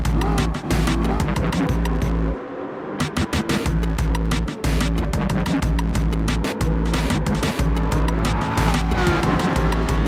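Roaring engines of a Mitsubishi GTO and a police-themed C5 Corvette battling in a racing game, a loud, steady high-revving drone with gear shifts and brief tyre noise as one car draws past the other.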